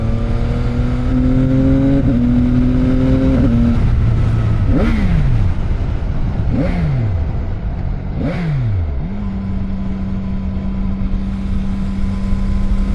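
A CFMOTO 675SR-R sport motorcycle on a test ride, its engine loud and close with steady wind roar, climbing through several revs with quick-shifted upshifts that drop the pitch, then settling into a steady cruising drone.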